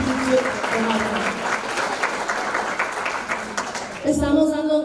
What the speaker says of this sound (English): A round of applause, please, for all of our sponsors.